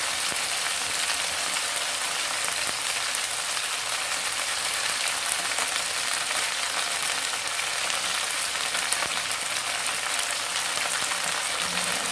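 Garlic, ginger and mint leaves fry in a pan for a spicy mint chutney, giving a steady, even sizzle that holds throughout without talk.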